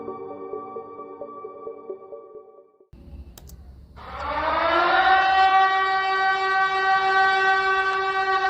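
An air raid siren warning of bombing in London during the Second World War rises after a moment of music and mechanical noise, then holds a loud, steady, sustained wail.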